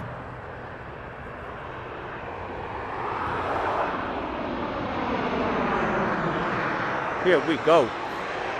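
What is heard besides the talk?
Southwest Boeing 737 taking off at Las Vegas airport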